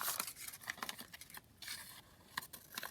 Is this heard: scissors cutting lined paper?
yes